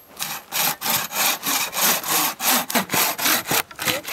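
A hand saw cuts through wood at a misty tent campsite, its strokes back and forth in a steady rasping rhythm, about a dozen close, loud strokes with no talking.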